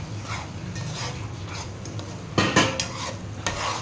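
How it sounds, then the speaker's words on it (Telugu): Ground gongura paste stirred into masala chicken in a pot for gongura pulao, with repeated scraping and clinking of a spoon against the metal and a faint sizzle underneath, a couple of sharper knocks toward the end. "దీంట్లో గ్రైండ్ చేసుకున్న గోంగూర పేస్ట్ వేసుకొని బాగా మిక్స్ చేయాలి."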